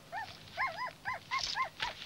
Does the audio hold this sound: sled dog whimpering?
yes